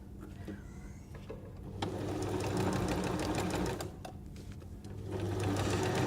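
A sewing machine runs a hem around the edge of a fabric napkin, its steady close mechanical whirr going in continuous runs that get louder at about two seconds and again near five seconds, with no talking.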